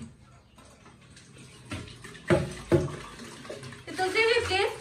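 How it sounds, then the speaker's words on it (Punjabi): Running tap water splashing as something is washed by hand in a village home, starting quiet and building into louder gushing and splashes, with a few sharp clatters midway and a strong rush of water at the end. "ਇਹਨੂੰ ਪਹਿਲਾਂ ਆਪਾਂ ਧੋ ਲਈਏ ਅੱਛੇ ਤਰੀਕੇ ਨਾਲ"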